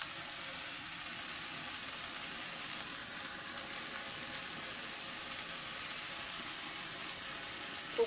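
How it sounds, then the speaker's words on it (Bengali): Bottle gourd peel and potato fry stirred in a hot pan with salt, a soft steady sizzle with faint scraping of the spoon, close and continuous without talk. "আমি এখন লবণ দিয়ে ভাজিটাকে নেড়ে নেব"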